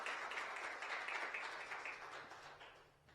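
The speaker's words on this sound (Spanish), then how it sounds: "Denle un aplauso al Señor." A church congregation applauds, a faint and fairly distant steady clapping that slowly fades.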